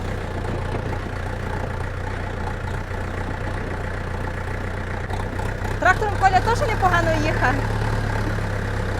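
A low tractor engine idles steadily throughout, with voices talking over it in the second half.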